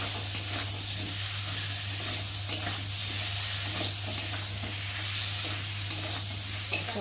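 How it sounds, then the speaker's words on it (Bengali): Potatoes sauté with a garlic and cumin spice paste in oil, giving a continuous dense sizzle with a low steady hum beneath and light, scattered ticks of stirring throughout. "মশলার সাথে আলুটা ভালো করে কষিয়ে নেব।"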